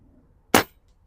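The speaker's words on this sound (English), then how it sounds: "Shooting Premier Hollow Points, one right after the other into the same hole." A single sharp report of a small handgun firing a Premier hollow point round at a can target outdoors, close and abrupt, with a quick decay into quiet.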